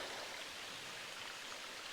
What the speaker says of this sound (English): the stream is running very nicely